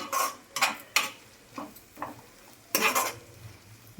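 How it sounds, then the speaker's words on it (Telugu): A spoon stirs turmeric into a hot oil tempering for a bitter cucumber pickle, giving a handful of short, separate scraping strokes against the pan with brief quiet gaps between them. "పసుపు కూడా మంచిగా కలిసేటట్టు కలుపుకోవాలి"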